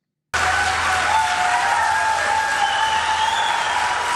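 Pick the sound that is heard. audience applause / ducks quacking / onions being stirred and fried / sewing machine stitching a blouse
audience applause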